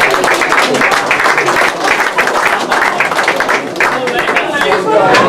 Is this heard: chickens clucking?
no